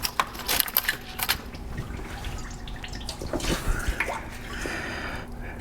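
Fluid drains from a used Land Rover into a drain pan, giving a steady trickle and patter with scattered drips and small metallic clinks, close and continuous throughout.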